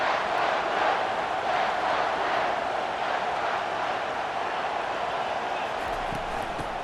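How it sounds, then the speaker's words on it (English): Stadium crowd in an American football video game, a loud continuous roar of cheering fans holding steady throughout, with a commentator's voice faintly mixed in. "This crowd trying to make life miserable for this offense"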